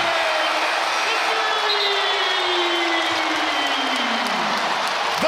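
A basketball arena crowd cheers and applauds in a dense, steady roar that fills the whole stretch, with a rising whistle-like tone cutting through, and commentary over the top.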